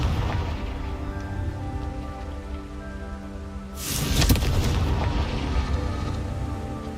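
A Confringo blasting curse explodes in Hogwarts Legacy: a sudden loud burst of crackling, rushing noise cuts in midway over a steady hum of game ambience and lingers for several seconds.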